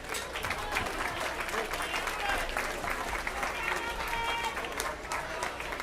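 Audience applause for young competitors at a youth swine show, a steady dense wash of clapping with crowd noise and voices mixed in, lasting throughout.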